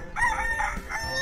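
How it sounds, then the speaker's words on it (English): A short rooster crow rings out, a brief rising call, close and clear. "Is it a rooster?"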